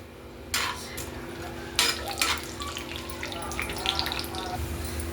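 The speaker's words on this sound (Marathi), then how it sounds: "गरम झालं की याच्यामध्ये आपल्याला हळद म्हणते, हरभऱ्याची डाळ घालायची. ही भाजून घ्यायची व्यवस्थित." Chana dal with turmeric frying in hot oil, a steady close sizzle with brief louder bursts and some scraping as it is stirred, while a person speaks over it.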